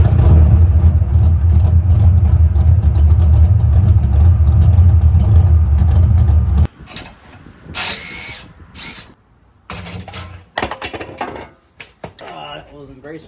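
A carbureted Foxbody Mustang V8 with BBK long-tube headers, an aluminum X-pipe and MagnaFlow bullet mufflers with axle dumps idles with a loud, steady, rumbling exhaust, then cuts off abruptly, leaving scattered clanks and handling noises.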